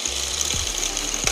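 A budget mini lathe costing under fifty dollars starts up, a steady low motor hum with a dense buzzing whine running throughout, loud and close, with brief knocks near the middle and end.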